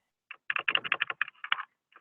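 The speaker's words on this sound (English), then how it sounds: "Somebody's typing, though." Quick clattering keystrokes on a computer keyboard, picked up over an open webinar call, come in a faint, rapid burst of a dozen or so taps before a short pause and one final tap.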